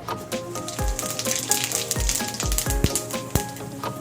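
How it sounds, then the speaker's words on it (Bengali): Cumin seeds temper in a small amount of hot oil, crackling and sizzling steadily up close, with sharp pops and a few clinks of a utensil against the pan, no talking. "এবার দিয়ে দেব কটা জিরে ফোড়ন"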